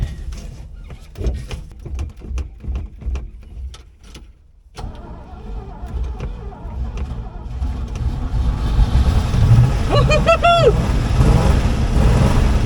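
An abandoned Chevrolet C-10 pickup, left rusting for 30 years, cranks over with a chattering starter after fuel is poured down the carburetor, then catches into a loud, steady engine rumble, with a brief squealing chirp near the end.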